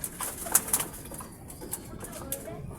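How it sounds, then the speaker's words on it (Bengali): Domestic pigeons with a nesting bird on eggs and young chicks, soft close cooing and a few faint wing flutters in a farm coop, with light background noise and no clear talk. "যারা এখানে আছে সবাই কবুতরগুলো দেখেন"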